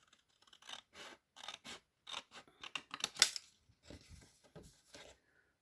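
Scissors make a series of close, crisp snips through craft paper while a straight line is cut for an explosion box, the cuts coming in a quick uneven rhythm and then tapering off.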